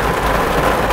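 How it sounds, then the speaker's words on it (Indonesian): Heavy rain heard from inside a car, a loud, continuous roar of drops drumming on the roof and windows with no break and no voices. "hari ini memang hujannya itu lumayan agak deras ya teman-teman"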